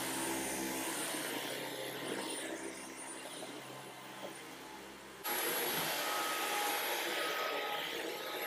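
A Dyson V15s Detect Submarine cordless vacuum cleaner on Eco mode hums with a steady airy whir up close, its tone shifting slightly partway through as it keeps running.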